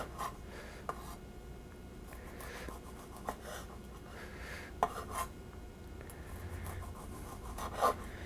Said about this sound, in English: I like to use a bread knife when slicing tomatoes.